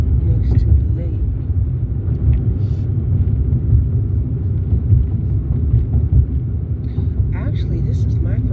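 A car drives along a lakefront, its engine and tire rumble a steady, loud low drone throughout, heard from inside the vehicle.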